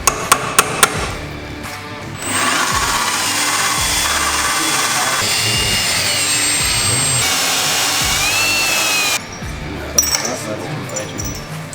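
A power drill runs steadily for several seconds while tapping into a TD42 Patrol thermostat housing during a diesel turbo install. A few sharp metallic taps come before and after, close and loud.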